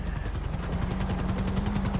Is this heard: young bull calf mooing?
no